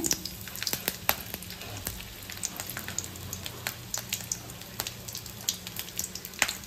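Garlic cloves, cinnamon and whole spices frying in hot oil in a clay pot, a steady soft sizzle dotted with frequent sharp pops and crackles, heard close and alone with no talk.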